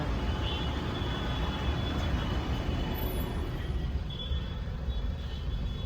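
Heavy traffic jammed in a Delhi market at Timarpur, with a dense, steady rumble of idling and creeping trucks, buses and cars close by and no clear talk over it.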